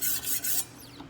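A Wicked Edge sharpening stone scrubs along the heel of a knife blade in a short, close, raspy back-and-forth rub, with no one talking.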